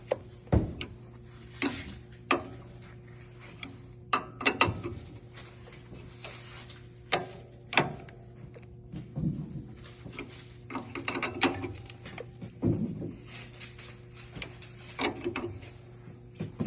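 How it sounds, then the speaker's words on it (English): A wrench tightens a fitting on an Alkin air compressor pressure switch, making sharp, irregular ratcheting ticks and clanks close by, spaced apart with quiet gaps, and no voices. "I'm going to continue using my wrench from the fitting and on the bottom."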